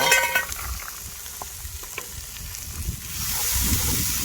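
White chicken chili cooking in a covered pot on a grill, a soft bubbling sizzle with scattered pops and clinks, rising into a louder steady hiss near the end; no talking.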